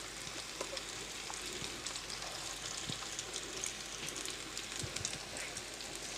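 Semiya pakavada batter frying in hot oil, a faint, steady crackling sizzle with scattered small pops and no talking.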